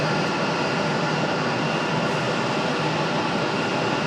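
Republic Airways jet airliner in house livery at Raleigh-Durham airport, a dense, continuous jet roar filling the clip at steady loudness, broad and hissy with no speech over it.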